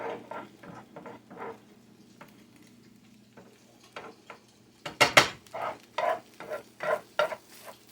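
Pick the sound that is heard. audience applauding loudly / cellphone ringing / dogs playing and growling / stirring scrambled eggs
stirring scrambled eggs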